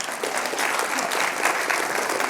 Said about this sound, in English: Can y'all give a round of applause for Rob?